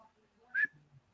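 A single brief, weak whistle rises in pitch from a person trying to whistle, then trails into a faint low breathy sound against near silence.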